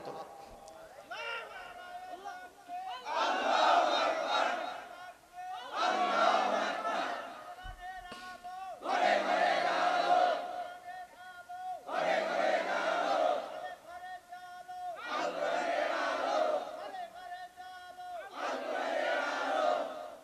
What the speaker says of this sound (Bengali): আল্লাহর নামে তোমরা বেশি বেশি করে বারবার তাকবীর ধ্বনি উচ্চারণ করো